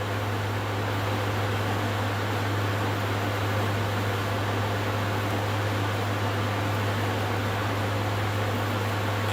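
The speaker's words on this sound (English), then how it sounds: "Do you guys hear the air conditioner or no?" An air conditioner runs with a steady broadband hiss and a constant low electrical hum, unchanging throughout, with no other sounds.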